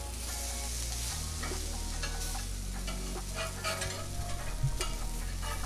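Eggplant fries in a pan with a steady, close sizzle that holds throughout, punctuated by faint crackles and light pops, and no voice is heard.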